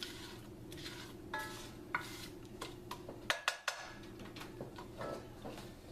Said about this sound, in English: So we're going to stir them pretty much continuously.